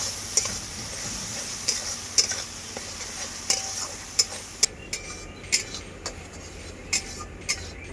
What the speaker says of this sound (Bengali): খুব ভালো করে মশলাটাকে আমি কষিয়ে নেব